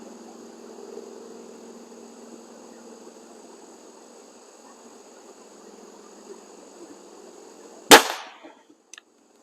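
A BSA Airsporter Stutzen RB2 air rifle fires a single sharp, loud shot near the end, cracking out of a quiet background with a faint steady hum before it.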